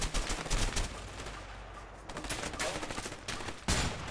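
Rapid bursts of gunfire from the video game A Way Out crackle in dense, loud volleys, with brief pauses between clusters of sharp shots.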